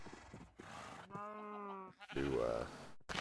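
Sheep in Minecraft with the Skybees modpack give two distinct synthesized bleats, a wavering tone and then a louder throaty one, close and clear with brief noise between them.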